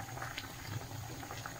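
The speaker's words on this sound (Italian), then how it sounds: "un'altra pentola a bagnomaria e sciogliamo cioccolato e burro" Water boiling steadily in the lower pot of an Italian bain-marie used to melt chocolate and butter, a continuous close bubbling simmer with small pops throughout.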